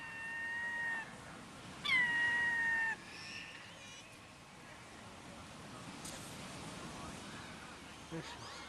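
A cat in Maine lets out two clear, drawn-out meows close by, each about a second long, followed by a quiet stretch of faint background noise.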